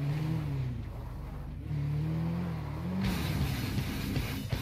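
Motorcycle engine in GTA V rolling downhill, a steady mid-pitched drone with shifting harmonic tones that rises briefly near the end.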